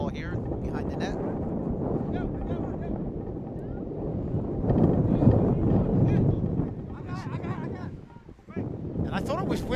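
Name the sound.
strong wind at an outdoor lacrosse game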